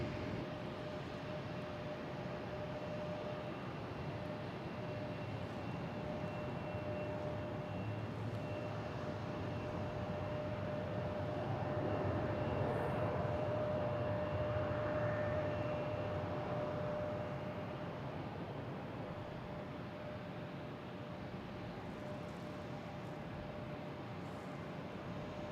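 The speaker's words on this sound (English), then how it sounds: "We have Delta coming in from Charlotte." A Delta airliner arriving from Charlotte at Boston Logan passes as a steady broadband jet roar that swells to a peak midway, then eases off. A thin engine whine runs throughout, with no voices.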